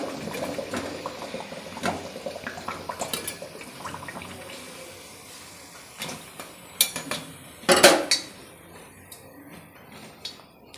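Fried medu vadas lifted out of hot oil give soft sizzling and bubbling, then a few clinks and scrapes of a utensil, with a sharper metallic rattle toward the end; close and fairly quiet, with no talk.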